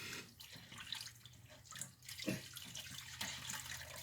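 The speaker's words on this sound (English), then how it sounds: "let me wash my hands just a little sec here" Tap water runs steadily into a kitchen sink while hands are rinsed beneath it, a close continuous splashing hiss with small surges and no talking.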